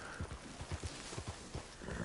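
Hooves clop at an uneven trot as a horse is ridden in Red Dead Online, a video game, with soft, fairly distant footfalls under a constant ambient hiss.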